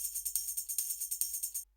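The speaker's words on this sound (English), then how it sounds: "So the tambourine sounds like this." A quiet tambourine loop in Dance eJay plays a steady rhythm of bright, jingling shakes, about eight evenly spaced hits, then stops abruptly.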